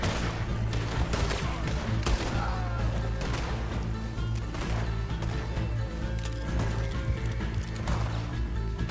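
Horse hooves clip-clopping and snorting in a Western-themed PC video game, mixed with bursts of distant gunfire, a busy continuous game soundscape with no clear talk.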